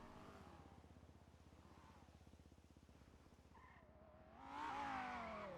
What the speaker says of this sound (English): I hear a speeding car.